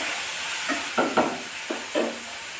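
Green chillies and tomatoes sizzle in a hot pan while cooking a simple home lunch, a steady close frying hiss broken by a few soft stirring scrapes.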